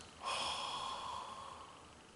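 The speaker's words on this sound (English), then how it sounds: "And let that breath out." A deep breath let out during a guided meditation, one long close exhale with a soft rushing hiss that fades slowly, alone without talk.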